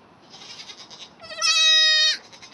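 A baby goat with diarrhea bleats, first softly and breathy, then one loud, sustained, wavering cry close by, with no talk.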